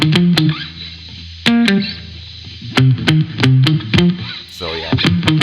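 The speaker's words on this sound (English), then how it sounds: "they're noisy. Like, there's just, you're gonna hear the guitar part." A noisy electric guitar track recorded through a DI box plays alone: sharp distorted picked chords and notes in uneven bursts, with a constant hiss and hum beneath the gaps.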